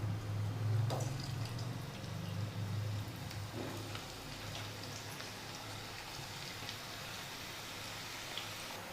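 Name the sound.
onion pakoda frying in oil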